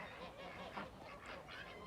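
Geese honk faintly and intermittently on a goose farm, the calls soft and a little distant against quiet outdoor background.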